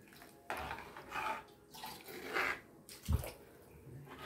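Water is poured into a cooking pot while making a cauliflower kola urundai kurma, in a few splashing gushes with brief pauses and a soft clunk near the end, fairly quiet and close.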